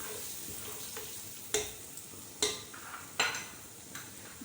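Turmeric, black and green cardamom and cinnamon frying in a pan: a low steady sizzle punctuated by four or five distinct spoon scrapes against the metal, close and fairly quiet, with no speech.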